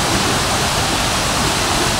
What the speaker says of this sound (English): which means the waterfall here is supposed to fall in seven layers.